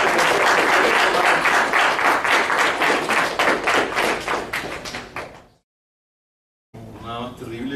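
Audience applauding at a literary talk, a dense burst of clapping from a small crowd lasting about five seconds and fading to silence, followed by a voice starting to speak.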